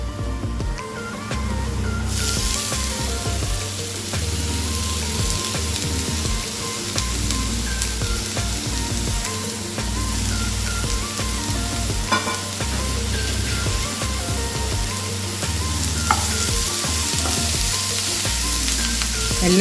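Beetroot stir-frying in a pan, a loud continuous sizzle lasting throughout, broken by repeated scraping and stirring strokes of a utensil.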